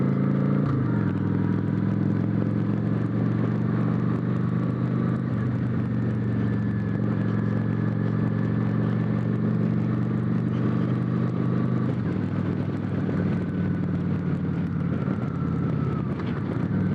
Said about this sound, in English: A lot of this I'm doing with my engine braking on this motorcycle too